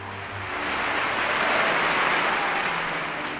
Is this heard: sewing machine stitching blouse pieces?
no